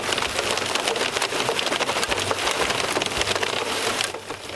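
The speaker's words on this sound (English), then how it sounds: "a hailstorm and heavy rain pounded the area" Heavy rain and hail pound northwest Indiana during a storm, a dense, loud, unbroken roar with crackling impacts that stays constant before easing slightly at the very end.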